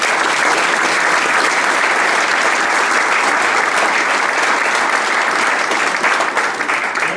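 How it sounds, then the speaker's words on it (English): A seminar audience applauses loudly and continuously, a thick wash of many hands clapping together with no talk over it, holding steady for the whole stretch before easing slightly at the end. "Let's give a hand of applause"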